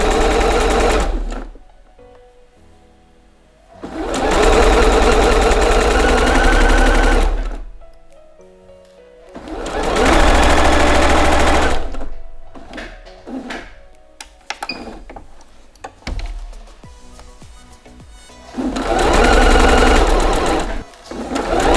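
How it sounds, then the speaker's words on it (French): Sewing machine stitching two fabric seams, loud whirring runs of several seconds each, separated by quiet gaps filled with fabric handling, clicks and small mechanical knocks, close up with no voices. "Donc on fait nos deux coutures."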